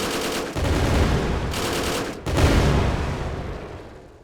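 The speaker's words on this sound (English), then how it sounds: "So it should now fire 5 per trigger pull. Yeah. And now I have a burst fire." Rapid burst-fire gunshots from a weapon in a video game under development, loud, dense rattling volleys separated by two short gaps, then trailing off at the end.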